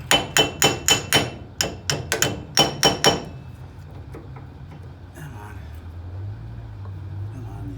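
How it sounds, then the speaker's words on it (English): A small hammer strikes a wheel bearing on a Classic Mini Pickup rear back plate, about a dozen sharp metallic taps in quick rhythm, up close, then quiet workshop background. "Sometimes I can just tap them with a little hammer."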